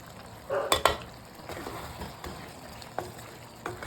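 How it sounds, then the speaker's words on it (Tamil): Ground masala is stirred into a paneer gravy in a pan, with a low simmering sizzle under a few close spoon-on-metal scrapes and taps, strongest near the start and then softer. "மசாலா சேர்த்துட்டு மிக்ஸ் பண்ணிடலாம்."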